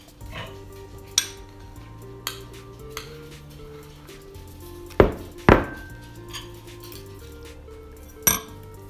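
Metal utensil clinks and scrapes while cheese powder is mixed into Samyang Buldak chicken carbonara ramen, a few sharp knocks against the bowl amid quieter stirring, close and alone with no talk.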